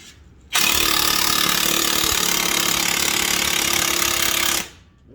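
Impact wrench on a car's crank pulley bolt, a loud continuous buzzing rattle lasting about four seconds close to the microphone, starting and stopping abruptly.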